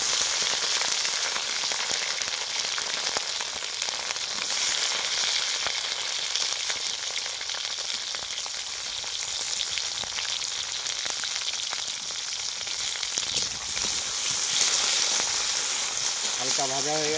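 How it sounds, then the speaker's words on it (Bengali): Green chilies and capsicum sizzle loudly in hot oil in a pan, a dense continuous crackle with occasional stirring scrapes and brief faint voice. "আমাদের তেল গরম হয়ে গেছে, আমি লঙ্কা দিয়ে দেবো। এরপর ক্যাপসিকাম দিয়ে দেবো।"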